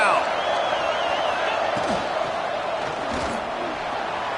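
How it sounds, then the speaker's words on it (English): A college football stadium crowd at a Texas Tech game roars on a third down, a dense, steady wall of cheering and noise that holds loud and even throughout, with faint shouts rising through it. "Guns up, and so is the noise. The crowd electric, trying to help Tech on this third down."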